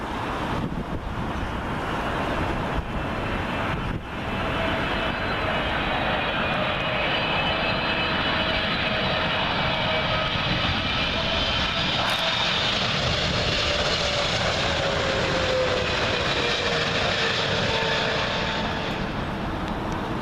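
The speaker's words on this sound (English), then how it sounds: "another Air Canada 777, but this one is coming in from Toronto" An Air Canada Boeing 777 from Toronto comes in low to land at Heathrow, its deep, heavy engine roar filling a long pass with a rising then falling whine, a few brief knocks and some wind buffeting early on.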